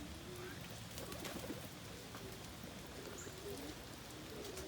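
Steady rain patters around a bird coop while pigeons or doves coo faintly and intermittently beneath the continuous wash of falling water.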